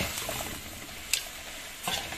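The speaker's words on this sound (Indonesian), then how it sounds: "Lalu masukkan daun kangkungnya. Lalu ditumis." Kangkung (water spinach) stir-fried in a pan with corn: a soft steady sizzle with a couple of sharp utensil scrapes and clinks, fairly quiet and close, no voices.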